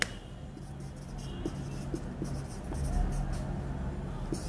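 Marker or chalk writing a word on a board, a soft continuous scratching with short strokes and pauses, heard close against a faint room hum.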